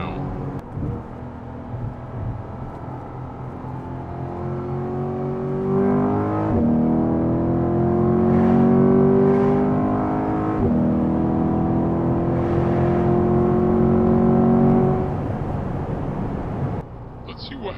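A 2023 Corvette C8 Z51 and a BMW M3 accelerate side by side in a street race, with steady engine drone and rising harmonic whine that swells and shifts as gears change, close and continuous under a voice speaking.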